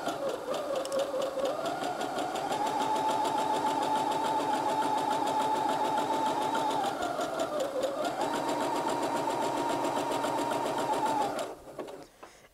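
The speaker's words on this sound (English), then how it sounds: "Right, we're going to sew away." Sewing machine stitching a t-shirt, a steady, fast mechanical whir with a rapid needle rhythm running continuously for about eleven seconds before stopping abruptly; close and fairly loud.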